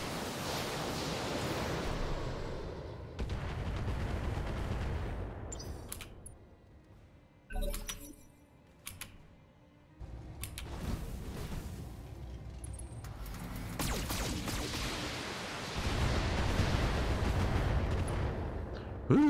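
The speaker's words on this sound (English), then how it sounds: "And you lob some missiles over." Missiles launched in the mech combat game Battletech, heard as several loud, rumbling broadband volleys with roaring bursts separated by short quieter gaps, no talking.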